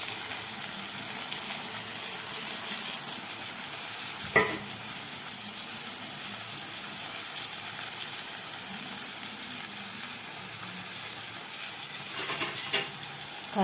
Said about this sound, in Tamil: நம்ம போட்ட தக்காளியும் ஒரு வழியாக வதங்கிடுச்சுங்க. இந்த நேரத்தில் வந்து இந்த கருவாடை போட்டுரும்.